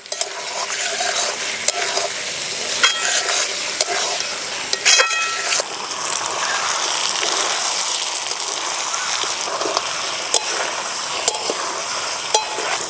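Duck meat with turmeric, chilli powder and tomato sautés in a pan as a spoon scrapes and stirs it, giving a continuous sizzle with sharp clicks of utensil against metal scattered throughout.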